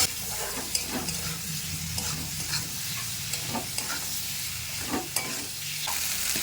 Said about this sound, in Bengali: আলুটাকে 1 থেকে 2 মিনিট খুব ভালোভাবে আমি একসাথে ভাজা ভাজা করে নিচ্ছি